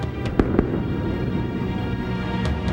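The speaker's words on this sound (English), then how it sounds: "2 explosions crack across the desert." Two sharp, loud sonic-boom cracks in quick succession ring out across the desert over a steady low rumble, with a fainter thud following a couple of seconds later.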